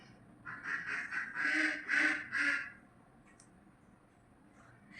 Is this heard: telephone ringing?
no